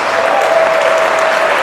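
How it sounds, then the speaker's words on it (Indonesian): A church congregation cheering and clapping for Jesus, a loud steady wash of applause from many hands with crowd voices blended in, filling the whole short moment. "Berikan sorak-sorai buat Yesus."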